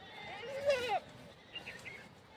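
A white sheep with black spots, part of a Gaddi shepherd's flock in the Himalayas, gives one clear wavering bleat up close, followed by a fainter, shorter call against quiet outdoor background.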